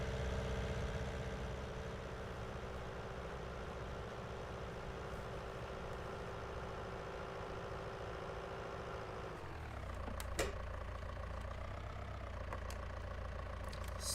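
A tractor engine idles in Farming Simulator 19, a steady low mechanical drone that holds evenly, then shifts to a deeper rumble near the end with a faint click, no talking over it.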